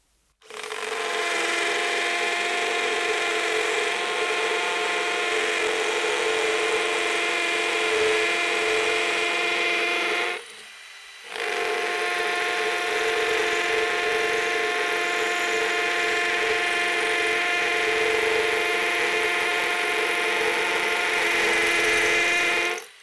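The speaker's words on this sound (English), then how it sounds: "You can hear that the impact rate is quite high." A Bosch hammer drill with impact switched on grinds steadily into hard masonry block for a long stretch, loud and close with a rapid buzzing hammer rate, stopping briefly midway before resuming.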